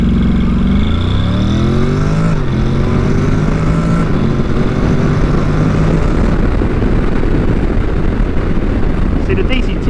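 A 2022 Honda NC750X DCT motorcycle in sport mode accelerating hard, engine note climbing through quick automatic shifts, loud and close with heavy wind rush.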